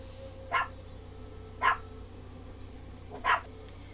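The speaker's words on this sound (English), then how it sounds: "so you will hear the dogs barking for a moment" Three separate barks from a dog at moderate distance, spaced a second or so apart, over a faint steady background hum.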